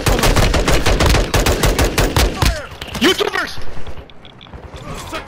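Rapid automatic gunfire in the video game Call of Duty Modern Warfare 2 DMZ, a loud dense burst for about two and a half seconds, then scattered shots and game effects as a voice shouts over the action.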